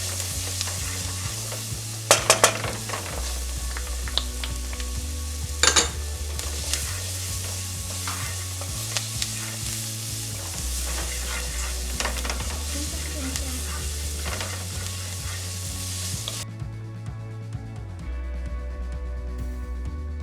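Onions, garlic and Scotch bonnet pepper sizzle in hot oil for Trinidad doubles, with steady frying hiss, occasional utensil clinks and stirring, over a pulsing low music bed.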